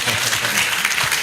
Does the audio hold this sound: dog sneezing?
no